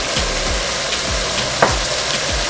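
Ground spices including turmeric, garlic powder, ginger and red chili powder stirred in a frying pan for beef lasagna, a steady sizzle with rhythmic scraping strokes about twice a second and one brief clink.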